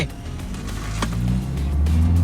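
A grey Isuzu D-Max HiLander pickup with a 3.0-litre engine accelerates hard from a standstill toward 100 km/h, its close engine drone swelling and climbing steadily in pitch and loudness, with no talking.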